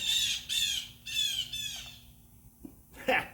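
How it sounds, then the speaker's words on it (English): Several harsh, loud bird squawks in quick succession, close by, followed by a short pause and one more shrill call. "never mind the birds"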